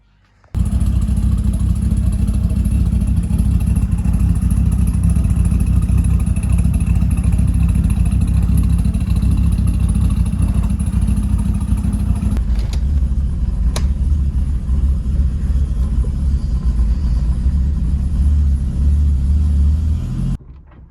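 A Holden VL turbo engine fitted with a new intercooler starts up and settles into a steady, loud rumbling idle that runs for about twenty seconds. The tone shifts slightly partway through before the engine cuts off.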